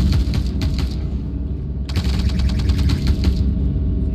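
Video game gunfire, rapid bursts of automatic weapon fire in two clear strings over a constant low rumble of battle ambience.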